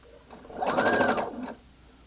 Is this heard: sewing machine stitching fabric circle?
yes